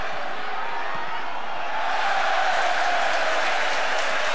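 Crowd at a Lillestrøm versus Rosenborg cup football match in 2004 cheering and applauding, a dense roar swelling in the second half, with a commentator's voice faintly underneath.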